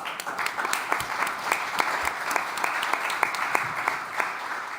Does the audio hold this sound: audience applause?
yes